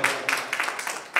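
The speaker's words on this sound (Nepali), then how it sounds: "जोरदार ताली यो टिमको लागि।" Audience applause for a debate team on stage at a Nepali debate competition, a dense wash of clapping with several swells and a final loud burst, heard from within the hall.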